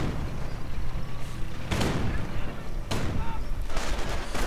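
Ostwind Flak Panzer anti-aircraft gunfire in a World War II strategy game, two loud bursts of rapid shots over a dense background of battle noise.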